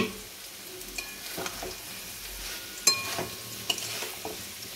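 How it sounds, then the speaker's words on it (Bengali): Poppy seed paste cooks down in a pan until its water has dried off, giving a steady close sizzle broken by occasional scraping taps of stirring. "পোস্তটা একদম মাখা মাখা হয়ে গেছে, পুরো জলটা শুকিয়ে গেছে।"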